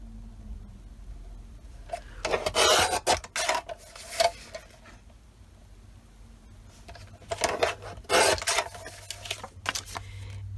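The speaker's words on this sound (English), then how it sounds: "I'm just lining the line that's in the pattern paper along with my paper trimmer, and then just cutting down" A paper trimmer slices through patterned paper in two separate bursts of rasping, sliding cuts, each lasting about two seconds, heard up close with quiet pauses between them.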